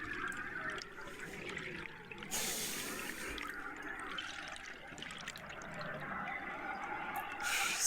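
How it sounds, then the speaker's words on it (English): A scuba diver's exhaled air bubbles underwater during a deep dive at 180 feet, heard as close, continuous gurgling and rushing bursts with louder surges partway through and at the end. "Same bubbles."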